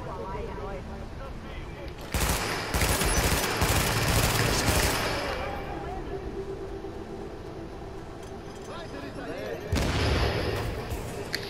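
Gunfire in The Division video game comes in two dense, loud bursts of rapid automatic fire, separated by a quieter stretch of steady game ambience.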